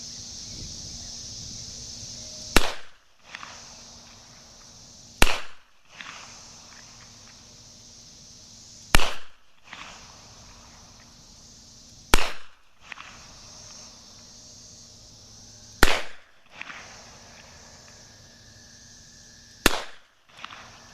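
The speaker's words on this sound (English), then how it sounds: "We're going to shoot double action because that really is the true test of the trigger." An older-model Taurus 66 revolver fired double action, six single loud shots spaced a few seconds apart, each a sharp crack with a short decaying tail, outdoors with faint wind between shots.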